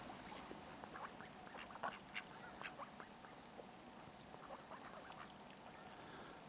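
Ducks quack softly and repeatedly at a pond on a winter morning in Hamilton, New York, a scattered chorus of short calls heard from some distance, with no talking.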